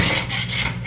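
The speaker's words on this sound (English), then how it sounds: "Scrape it." A tool scraping a wooden surface clean produces a steady, close, harsh rasping sound that fills the whole short stretch with no talk.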